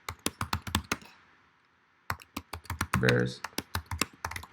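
Fast clacking keystrokes on a computer keyboard, close and crisp, in two bursts separated by a short pause, with a voice speaking briefly over the typing near the end.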